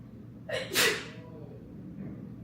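A single sharp human sneeze with a quick intake of breath before the burst, close and loud, then quiet room tone.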